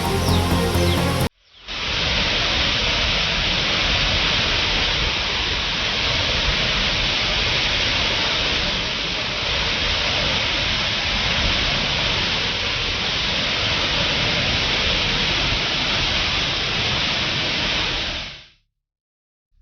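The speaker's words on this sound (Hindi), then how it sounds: "लगातार हो रही बारिश की वजह से केरल के बांधों से पानी लगातार छोड़ा जा रहा है" Floodwater pours from dams during the Kerala floods, a loud, unbroken roar of rushing water that holds steady for most of the stretch before cutting off abruptly.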